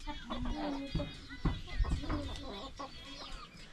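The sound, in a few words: chickens and roosters clucking in a village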